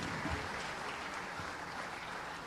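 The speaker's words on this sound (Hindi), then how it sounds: "जोरदार तालियां आइए, लगातार बजाते रहें।" An audience applauds steadily at an award ceremony honouring a bronze medal-winning Indian hockey player, a dense continuous wash of clapping at moderate distance.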